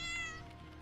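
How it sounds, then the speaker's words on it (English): A cat gives a single soft meow inside the Identity V video game, a short, gentle call heard alone with musical tones behind it. "she let out a soft meow without pulling away"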